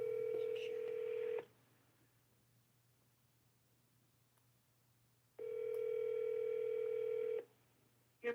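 Touch-tone dialing on a telephone for an outgoing call: a steady dial-tone hum with clear tone bursts at the start and again later, separated by a quiet gap, close and alone with no talk.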